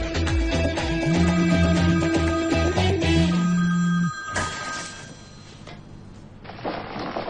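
An old-style telephone bell rings in repeated bursts over a loud, busy background for several seconds, then the ringing stops and the scene quiets.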